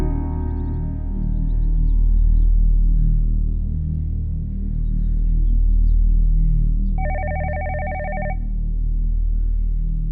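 A telephone rings with a brief electronic ringtone burst partway through, over a low continuous rumble and faint background tones.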